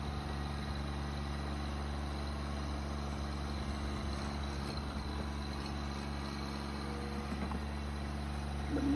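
A Massey Ferguson sub-compact tractor engine runs steadily while its front bucket is worked, a constant low droning hum with no break, heard close and alone.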